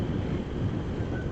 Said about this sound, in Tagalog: grabe talaga yung yung hangin ng probinsya.